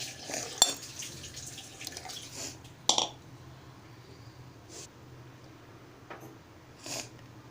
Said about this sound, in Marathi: मी आता कोमट पाणी घालणार आहे